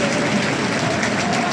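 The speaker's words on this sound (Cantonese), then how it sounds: "好啦，體育精神，俾掌聲兩隊" Stadium crowd applauding both football teams after a Japanese League Cup final, a steady broadband wash of clapping and crowd noise with no clear individual claps.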